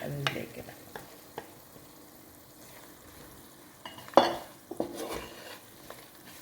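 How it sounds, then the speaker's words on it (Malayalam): Chili powder being stirred into gooseberry pickle frying in a pan: soft sizzling with scattered scrapes and clinks of a spoon against the pan, one louder knock midway, close and without talk. "ഇനി നമുക്ക് മുളക് പൊടി ഇടാം."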